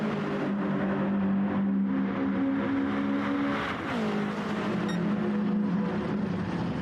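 Toyota GT86 race cars in a racing video game at Autodromo Lago Maggiore, engines droning loud and steady with a pitch dip and recovery as they shift, several cars close together throughout.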